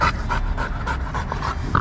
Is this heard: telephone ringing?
no